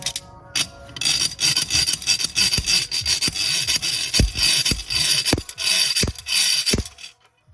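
Repeated metallic clacks and scraping knocks from a homemade slide hammer pulling out the rear output prop shaft seal of a Honda TRX420 ATV, irregular strikes close by, with rubbing and grinding between them and a final sharp pop.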